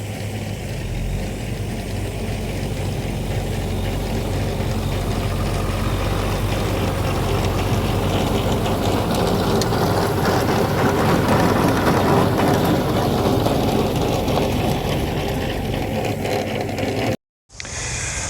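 A tractor drags a springtime cultivator across a field, its steady low engine drone running loud and unbroken under faint clattering, cutting out abruptly near the end.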